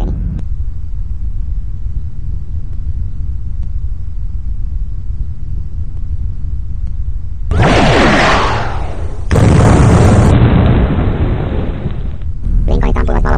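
A science-fiction explosion as a plasma ball strikes a spaceship's warp engine: a low rumble gives way to loud, harsh bursts of blast noise in several abrupt blocks, with no speech.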